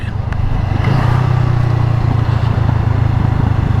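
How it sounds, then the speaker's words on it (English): Honda Rebel 500 motorcycle engine burbling on the overrun, a steady low rumble with a loud, continuous drone close by that carries on without pause. "Burbling on the overrun is nice."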